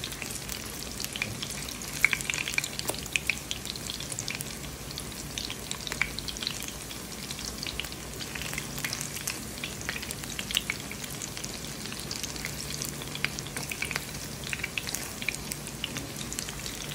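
Food fries in a pan and is flipped over, giving a continuous crackling sizzle with scattered pops and light clatter throughout, with no talking.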